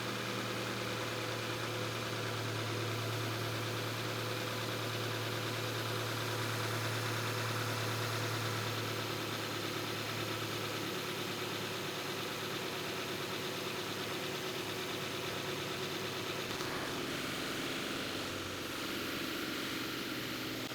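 A Subaru engine held at a raised idle of about 2,000 to 2,500 RPM while cleaner burns off, a steady continuous hum and drone with no talk and a slight shift in tone near the end.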